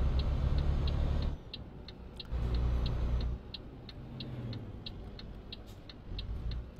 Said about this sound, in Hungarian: Már most indexelek előre.